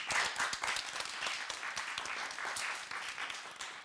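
Studio audience on a television game show applauding the Green team, with steady clapping from many hands that holds at an even level throughout.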